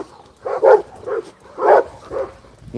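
A little dog barks in several sharp yips, close and loud, outdoors by a fence during a walk.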